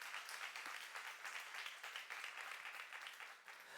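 A church youth congregation claps together in a soft, distant, continuous patter that holds evenly for a few seconds.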